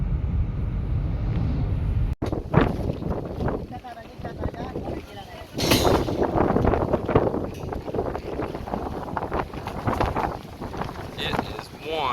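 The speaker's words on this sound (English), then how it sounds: "It is one windy day up here." Strong gusting wind buffets the microphone at a beach house site in the Philippines, with churning water nearby, a steady roar rising sharply partway through while people talk over it.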